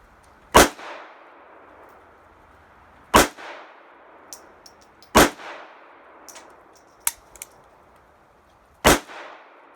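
A Smith and Wesson Bodyguard 380 pistol fires Blazer aluminum rounds at a range: four loud, sharp shots spaced a couple of seconds apart, each with a short ringing tail, plus a few faint clicks and clinks between.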